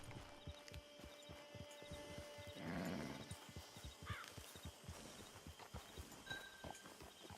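Horse hooves clop in steady rhythm in the video game Red Dead Redemption, a quiet, even series of hoofbeats with a faint snort midway and no talk.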